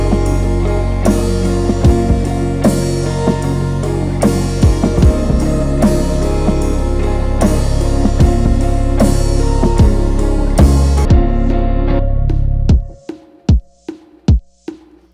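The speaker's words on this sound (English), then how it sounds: "I went ahead and layered it with this kick that just hits very sparingly" A hip-hop drum loop runs layered with a deep kick drum hitting only sparingly, booming low thumps under the repeating beat, then the loop cuts out leaving a few isolated hits ringing alone near the end.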